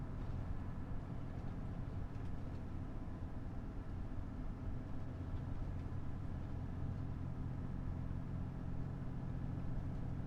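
Quad track tractor rolling along at slow speed, a steady low engine drone with track rumble, continuous and even throughout with no talking.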